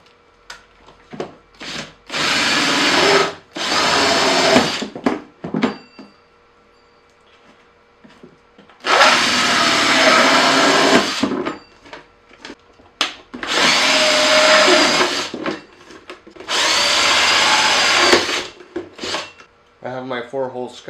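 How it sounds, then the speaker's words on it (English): Power drill with a hole saw cutting holes in a plastic container lid, five loud grinding bursts of a few seconds each separated by quiet pauses. "to drill the hole, you need to be pretty close to the edge here and on the line for the center."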